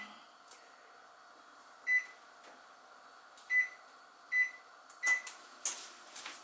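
Electronic control beeps from an oven being set to preheat to 375, several short, high, evenly pitched chirps spaced a second or so apart over a quiet kitchen background.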